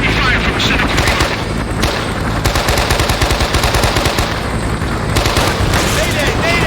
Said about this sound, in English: We're taking heavy fire from the center courtyard.